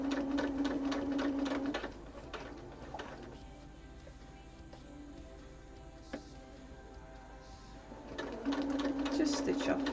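A sewing machine stitches binding onto a mini quilt in rapid mechanical bursts at the start and end, with a quieter pause between while a person talks.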